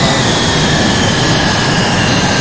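Four Concorde jet engines in Flight Simulator X, a loud, steady broadband roar with a faint high whine, constant throughout and with no talking.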